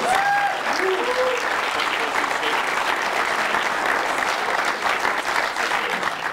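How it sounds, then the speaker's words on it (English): An audience applauds panelists at the close of a live-streamed Q&A session, with steady, dense clapping that holds loud and even throughout and a few brief whistle-like tones near the start. "let's give our panelists a round of applause"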